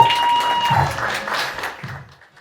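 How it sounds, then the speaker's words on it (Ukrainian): A stand-up comedy audience at a Ukrainian show breaks into dense applause and cheering as the comedian is called to the stage, with the clapping steady and close before tapering slightly at the end. "Тому під ваші оплески на цю сцену йде Юрій Левицький."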